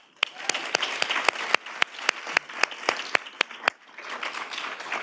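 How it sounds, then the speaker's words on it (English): Audience applause at a university women's leadership and philanthropy panel: a steady wash of clapping with sharp individual claps punctuating it, easing slightly near the end. "I really want to give a big round of applause and thank you to Anila Jane once more."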